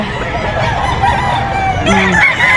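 At a busy chicken market in Bocaue, a rooster lets out a single crow near the end, rising clearly above a constant, loud background of clucking fowl and crowd noise.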